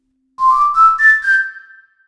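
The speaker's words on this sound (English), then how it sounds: "Human whistle." A person whistles the McDonald's jingle clearly and alone: five quick, rising, bright notes in a short phrase, with the last note held and fading.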